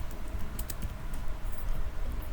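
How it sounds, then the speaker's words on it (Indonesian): Someone types a git command on a computer keyboard: a rapid run of close, light key clicks in an uneven rhythm, continuing steadily without speech. "selanjutnya di sini kita akan mengetik git"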